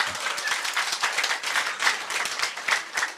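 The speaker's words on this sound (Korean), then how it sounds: "박수 좀 해줘요." A church congregation at a seminar sermon claps in a rhythmic, fairly close round of applause, individual claps distinct and pulsing steadily with slight crowd murmur.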